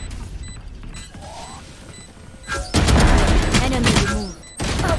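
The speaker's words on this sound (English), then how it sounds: "Placing swarm grenade. Swarm grenade out." A swarm grenade goes off in a shooter game. A loud, crackling burst of multiple rapid pops and bangs arrives after a quieter stretch of game ambience and lasts about two seconds, then drops and flares again briefly.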